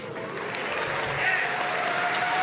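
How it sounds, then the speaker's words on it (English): A convention panel audience at PAX West gives a light, even scattering of applause, moderately distant and sustained through the short stretch. "A smattering of applause for the Normans"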